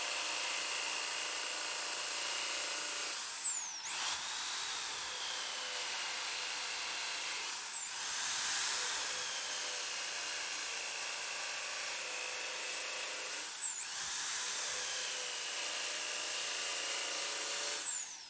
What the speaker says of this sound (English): you can use this to do beard lines